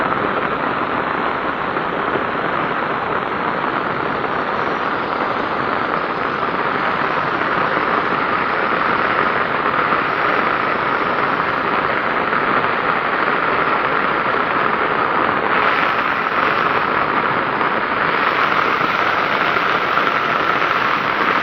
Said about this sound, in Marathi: मित्रांनो, खूप पाऊस पडायला लागला आहे.